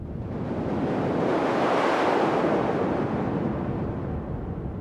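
A dark ambient drone from a Nord Drum 3P, shaped by a band pass filter, swells as a loud, breathy wash of noise that rises and falls smoothly over about five seconds with no talking.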